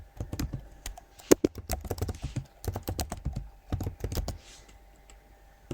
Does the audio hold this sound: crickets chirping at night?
no